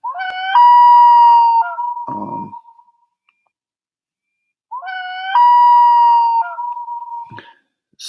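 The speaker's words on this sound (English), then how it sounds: "that was the alarm" An electronic alarm tone from a Punkt MP02 phone sounds twice, each a rising, warbling beep sequence lasting about two seconds, separated by a few seconds of silence.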